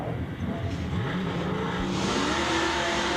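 An LT-engined sixth-generation Chevrolet Camaro and a Ford drag race at Greer Dragway, a loud, sustained engine roar with rising, sweeping pitch as the cars accelerate.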